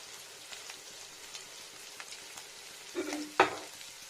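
Turmeric and other ground spices fry in a pan of hot oil for an omelette and pointed gourd curry, giving a soft, steady sizzle with faint stirring scrapes and a brief louder crackle near the end.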